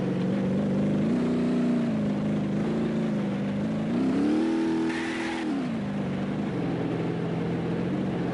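A car engine drones and revs in BeamNG.drive on a Nevada desert map, a continuous close motor tone that climbs in pitch midway, then settles back to a steady cruise.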